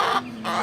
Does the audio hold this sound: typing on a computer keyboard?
no